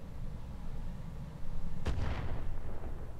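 A BattleTech mech in the Roguetech mod fires LRM missiles: a sharp whooshing launch cracks over a steady low rumble of game combat, followed by a rolling, crackling roar.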